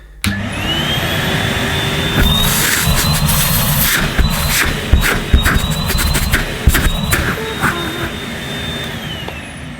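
A Numatic Henry Eco canister vacuum cleaner runs steadily with a loud broadband whoosh and a high whine, with brief knocks and bumps as the hose moves.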